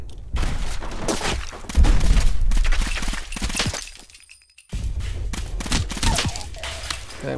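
Dense, loud bursts of gunfire and sharp cracks crowd a firefight against gunners in modded Fallout 4, broken by a brief near-silent lull before the shooting picks back up.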